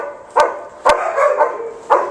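A dog barks three times in sharp, spaced bursts, close and fairly loud, with softer whining or yelping noises filling the gaps between barks.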